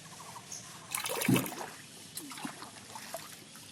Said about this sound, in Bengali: খোসাগুলো এগুলো বারবার করে জল দিয়ে ধুলে পরে উপরে উঠে আসবে এভাবে সবগুলো ভালো করে ধুয়ে নেব